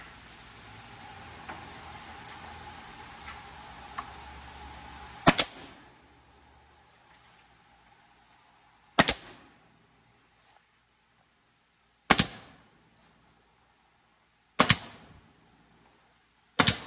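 A nail gun drives nails into a historic wood window frame with four sharp, loud bangs spaced a few seconds apart. Quiet handling noise sits underneath, and no one speaks.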